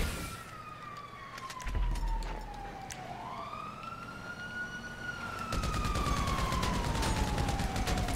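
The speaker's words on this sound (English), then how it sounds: "I think it's Liam in the police car" A police car siren in Grand Theft Auto V wails and sweeps up and down over game engine noise, loud and continuous, with a burst of gunfire and rumbling partway through.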